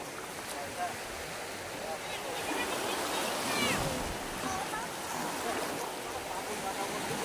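Ocean waves washing near a beach, a continuous broad wash of surf with wind noise, swelling slightly midway, with faint voices and occasional chirps in the background.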